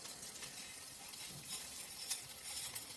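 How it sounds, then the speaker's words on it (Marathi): Peanuts, green chillies and cumin sizzle steadily in a hot pan with oil, a constant close frying hiss broken by a few soft stirring scrapes, with no voices. "शेंगदाणे, हिरवी मिरची आणि जिरे यांना व्यवस्थित एकदा परतून घ्यायचं आहे."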